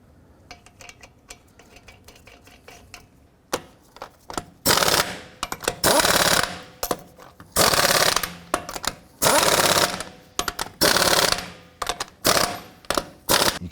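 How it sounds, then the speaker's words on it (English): Impact wrench running lug nuts onto a Cadillac Escalade front wheel: repeated loud, sharp hammering rattles in short bursts, with quieter clicking and handling noises before them. "then we'll go ahead and install the lug nuts and torque those to 140 foot-pounds"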